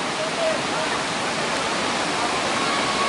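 Kawasan Falls in Cebu, a waterfall pouring into a pool, gives a steady, dense broadband roar that holds at an even loudness throughout.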